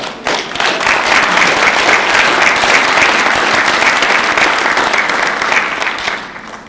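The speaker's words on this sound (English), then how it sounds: "Please give yourselves a big round of applause" A large audience at a celebration event gives itself a big round of applause, loud sustained clapping from many hands that swells quickly and holds steady for several seconds before starting to fade.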